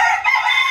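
A rooster crows once, loud and close, a sustained cry that fills the whole moment with no other sound around it.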